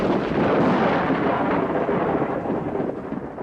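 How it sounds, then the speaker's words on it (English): Thunder of an approaching storm over mountain hills, a long deep rolling rumble that swells and slowly fades, heard alone at a distance. "The hills echo the coming storm"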